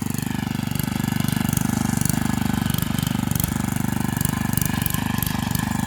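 A tractor tills garden soil, its engine holding a loud, steady, throbbing drone from start to finish with no talking.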